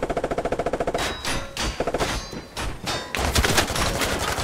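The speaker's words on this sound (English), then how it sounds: "They're shooting us." Gunfire rattles through a Squad armored battle, opening with a fast, evenly spaced burst of automatic shots and then ragged volleys and heavy thuds, loud and close throughout.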